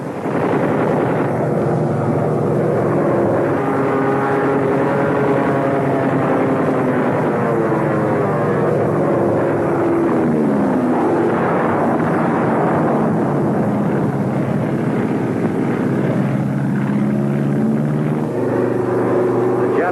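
World War II aircraft engines roar loud and continuous during a wartime battle over enemy hangars, with the pitch rising and falling as planes pass, mixed with distant rumbling blasts.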